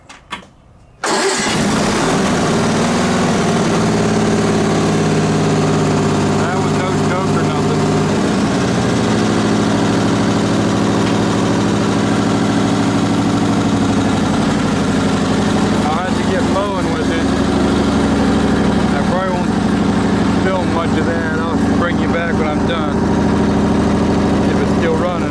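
An Onan engine is heard starting after its fuel pump was bypassed and then settling into a loud, steady idle that runs throughout. A voice talks faintly under the engine.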